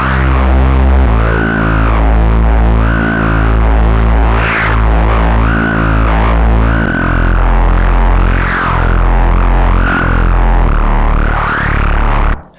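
An Arturia MatrixBrute and a Moog Mother 32 synthesizer play a loud, aftertouch-heavy patch with raised resonance: a stepping bass line runs under repeated resonant filter sweeps that swell and fall for about twelve seconds, with no talking.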